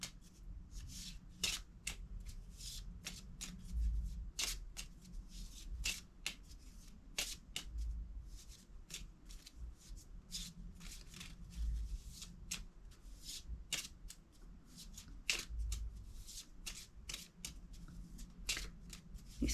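Cards being shuffled during an oracle card reading, with repeated crisp riffling bursts and soft slaps of the deck at a close, even level over about twenty seconds, no talking.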